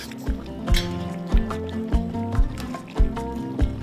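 Meat simmering in a pot for Uzbek mashkichiri, a dish that also contains rice, with soft bubbling and liquid plops recurring every half second or so, fairly close and steady, with no voices.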